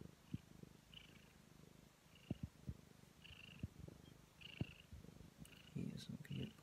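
A domestic cat, just in from the snow at night, purrs in a low, steady rumble, faint and close, with soft voices talking over it.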